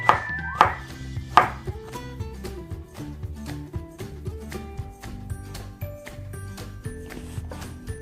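A kitchen knife trims the ends off cucumbers on a cutting board while pickles are being made, producing a series of crisp, evenly spaced chopping taps, close and moderately quiet.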